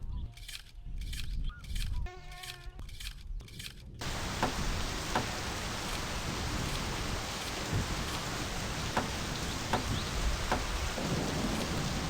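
Steady rain pours down in a thunderstorm in the video game My Summer Car, a dense, even hiss with faint distant thunder rumbling beneath, preceded by a few seconds of game sounds before the downpour begins.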